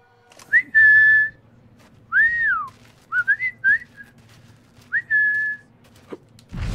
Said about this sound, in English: In which case I can just whistle and...